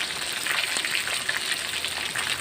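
Steady crackling sizzle of salted tilapia frying in hot oil in a pan, close and continuous with no voices.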